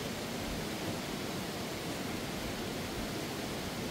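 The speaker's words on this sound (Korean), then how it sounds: "여기저기 폭포가 많네." Small cascades at Cheonjeyeon Falls in Jeju give a steady, dense rush of falling water, close and unbroken.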